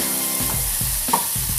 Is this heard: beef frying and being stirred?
yes